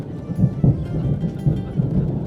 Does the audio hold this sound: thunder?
yes